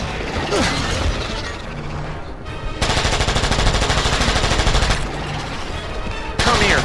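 Tommy gun bursts in a dinosaur video game, loud sustained rapid-fire rattling with short pauses between long volleys, close and dominant throughout.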